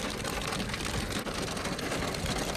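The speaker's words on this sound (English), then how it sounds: "And you can hear it there, one hail of a storm in the OC." Hail pelts down during a strong storm cell in Anaheim, Orange County, a dense, steady hiss of rattling impacts across the whole stretch, close and fairly loud with no voices.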